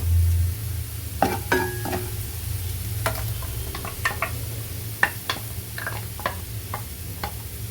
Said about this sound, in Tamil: இதையும் வெங்காயமும் தக்காளியும் சேர்ந்து நல்லா வதக்கணும்.